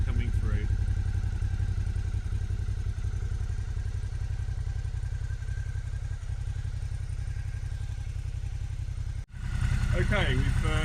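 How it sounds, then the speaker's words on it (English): A car engine idles steadily with a low, even rumble throughout, close by, with a brief break and a voice speaking near the end. "we've let the engine idle for 15 minutes"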